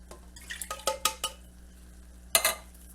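Water swished inside an emptied tin can of tomato sauce in a kitchen, giving a handful of bright metallic clinks and sloshing knocks in two short bursts, close and clear with no talking.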